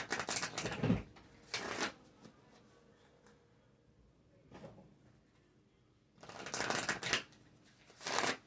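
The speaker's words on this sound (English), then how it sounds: "I guess I'll pull some cards" Tarot cards are shuffled in short riffling bursts, two quick rounds at the start, a brief flick in the middle, then two more bursts near the end, close and quiet with no talk.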